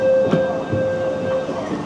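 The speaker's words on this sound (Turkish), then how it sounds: "Bu trendir diye ümit ediyorum. Binelim ya." A train in Kyoto rumbles steadily, with a sustained tonal whine and a couple of soft knocks, heard close and alone.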